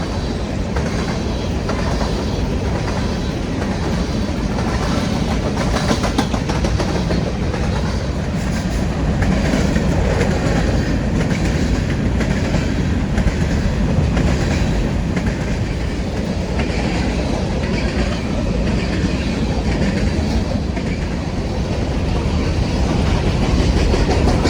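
A freight train passes northbound at speed, a loud, continuous roar of rolling wheels and clickety-clack rail joints sustained close by throughout.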